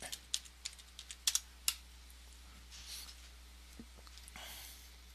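A password is typed on a computer keyboard during a login: a quick run of crisp, close keystrokes with uneven spacing, then a few softer taps and faint rustling against a quiet background.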